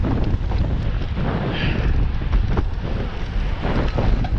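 Strong wind near Utah Lake buffeting the microphone in a loud, continuous roar with gusty low rumble throughout, close and unbroken, no voices.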